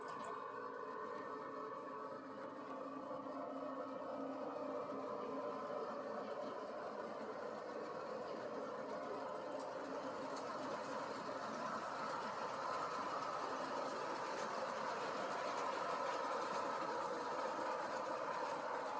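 A model train running after the throttle is turned up, a steady whirring motor hum with a faint rolling rattle, even and moderately quiet for the whole stretch.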